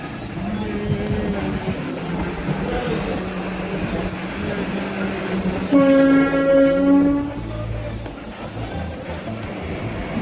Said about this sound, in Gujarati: આપણે જેની રાહ જોતા હતા એ ટ્રેન આપણી સામે જ આવી ગઈ છે.